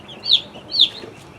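A full-grown hen clucks twice in quick succession, each a short, sharp, fairly loud call close by, with quiet pauses between and no voices.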